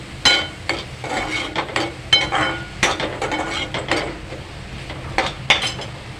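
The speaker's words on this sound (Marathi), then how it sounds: "कांदा आणि टोमॅटो छान परतून घ्या" Onion and tomato are sautéed in a pan for prawn masala, with repeated spoon scrapes and clinks against the pan over a soft, continuous sizzle.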